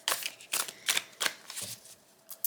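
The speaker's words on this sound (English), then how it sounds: "let's give it a quick shuffle because I'm ready to work with this deck" A tarot card deck with smooth cardstock being shuffled by hand in a quiet room, a series of about six crisp riffling bursts in quick rhythm, close and fairly soft.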